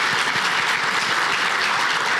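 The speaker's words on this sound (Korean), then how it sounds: "그래서 이런 땐 한 박수를 더 치셔야 돼요." Steady applause from a crowd at a university inauguration worship service, dense continuous clapping throughout with no voices on top.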